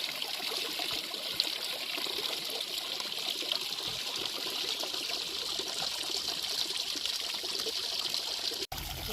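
Water trickling and streaming at hot springs beside a river, a constant close wash of bubbling flow that holds steady throughout with no talk.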